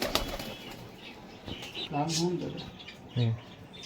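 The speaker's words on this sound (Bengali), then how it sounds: "পায়রাটা ছেড়ে দেখাচ্ছি আমাদের ফিমেলটা।" A female pigeon is released, its wings flapping in quick bursts near the start, then a voice talks briefly over the fluttering.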